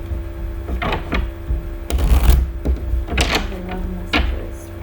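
Tarot cards being shuffled by hand, heard up close as a few short, papery bursts of riffling separated by quieter pauses.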